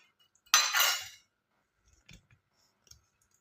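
Two cups of raw white rice pour from a cup into a metal vessel for upma kozhukattai: a single loud, gritty rattling rush lasting under a second, followed by a few faint clinks and taps.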